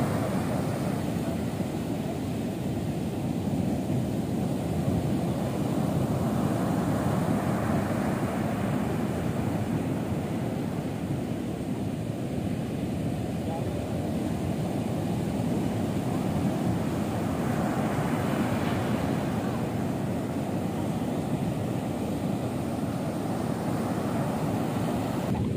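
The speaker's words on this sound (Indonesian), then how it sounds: "Lihat aja tuh ombaknya gede banget." Big ocean waves break and roar steadily at Cemara beach in Cipatujah, a dense continuous surf wash with slow swells rising and falling, mixed with wind buffeting the microphone.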